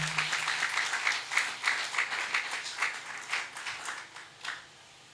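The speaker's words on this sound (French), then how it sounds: "Nous acclamons très fort, très fort, très fort." An audience at a church training session for ministers breaks into steady, enthusiastic applause, many hands clapping together in a close, continuous wash that swells and then tapers off near the end.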